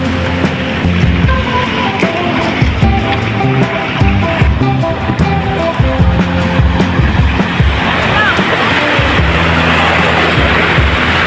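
A kulong-kulong motor tricycle rumbles loudly and steadily during a ride, engine droning and rattling with road and wind noise close by throughout.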